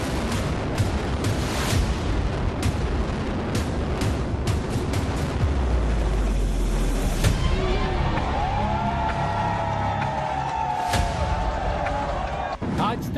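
A deep, rumbling blast roars from the controlled demolition of twin tower buildings amid dense crowd noise, with sharp cracks and a sustained heavy roar, then shouting and cheering over the continuing din.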